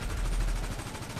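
Rapid gunfire in the video game GTA V, a dense, continuous burst of shots crackling without pause across the whole short moment, loud and close, with no talking over it.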